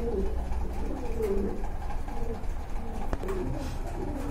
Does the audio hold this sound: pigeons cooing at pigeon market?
yes